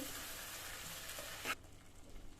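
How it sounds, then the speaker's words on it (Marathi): Ground coconut masala sizzles and is stirred in hot oil for a Ghati surmai curry, a steady close frying hiss with a brief scrape of the spoon before it drops away suddenly. "खोबऱ्याचं वाटण घालायचं आहे पाच मिनटं मसाला तेलामध्ये मिक्स करायचा आहे"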